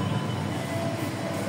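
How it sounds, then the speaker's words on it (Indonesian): KRL electric commuter train pulling into Klaten station, a loud continuous rolling roar of wheels and carriages passing close by without any voices. "KRL masuk ya."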